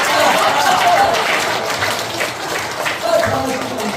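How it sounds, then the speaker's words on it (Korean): Church congregation at a revival service clapping loudly together, a thick, continuous roar of many hands with crowd noise and voices mixed in, loud and sustained throughout. "큰 소리로 박수 치면서 시작."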